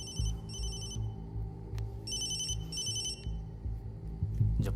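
A telephone rings in two-burst electronic patterns, about four bursts in all, over a low steady rumble of background music, moderately loud with no talking.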